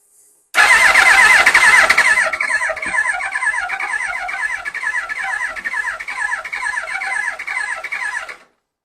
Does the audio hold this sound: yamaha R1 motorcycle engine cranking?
yes